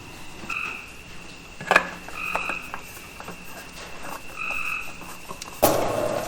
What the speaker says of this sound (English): It's pouring down rain, and the frogs are loving it, and it's really loud.